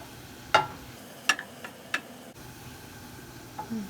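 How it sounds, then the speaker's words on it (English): A few scattered clicks and scrapes of a utensil stirring food in a pan as it cooks down, separated by quiet gaps with only a faint low sizzle underneath. "I'm kind of just waiting for this to turn translucent and still occasionally stirring"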